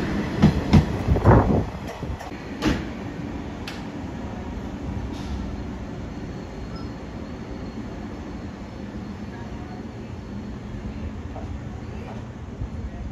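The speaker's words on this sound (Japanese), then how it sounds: "特急やくも伯備線岡山駅381系特急やくもリバイバルやくもです" A JR West 381 series Yakumo limited express on the Hakubi Line moves through Soja Station in Okayama, with a few sharp clacks and bumps at first, then a steady low rumble of wheels that carries on.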